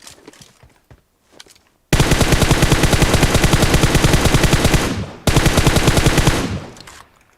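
Rapid automatic gunfire in PUBG rings out in two long, loud, sustained bursts, the first lasting about three seconds and the second shorter, preceded by faint scattered noises.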